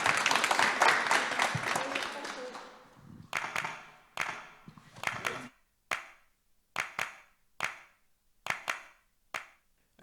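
Audience applause at a university talk on studying abroad starts as a dense burst, then fades into slow, sparse, rhythmic claps spaced about a second apart, with faint voices underneath.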